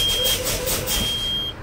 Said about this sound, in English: the low air buzzer and warning light have come on